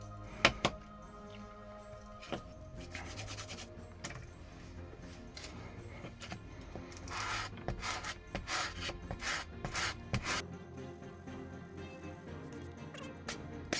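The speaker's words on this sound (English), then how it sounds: "so I'm going to get some sandpaper" Sandpaper scrubs across a 3D printed Halo MK40 Sidekick prop, giving close, dry rasping strokes in uneven bursts that grow busier and louder toward the end.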